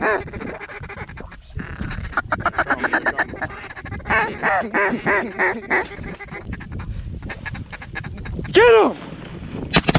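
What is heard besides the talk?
mallard ducks quacking in the air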